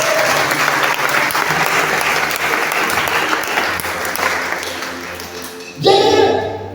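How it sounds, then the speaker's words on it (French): A church congregation applauds steadily with scattered voices mixed in, then a louder swell of clapping and cheering rises near the end. "Donne à Jésus les acclamations."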